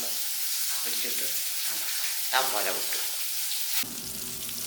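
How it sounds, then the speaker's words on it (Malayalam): Sardines frying in a pan for a Kerala fish meal, a steady oil sizzle with bursts of crackle as the fish is stirred and turned, close and moderately loud, with a brief voice near the start and a louder pan noise near the end. "നല്ലപോലെ മൂപ്പിച്ചെടുക്കണം മറിച്ച് ഇടാണ് ഒരു ഭാഗം വെന്തിട്ടുണ്ട് മറ്റേ ഭാഗം മറിച്ചിടാം"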